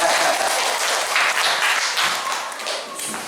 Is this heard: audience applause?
yes